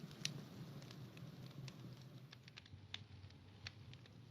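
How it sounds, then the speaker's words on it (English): Minecraft campfire crackling softly and steadily, with scattered faint pops and snaps over a low, quiet fire bed. "having a cozy time at a campfire."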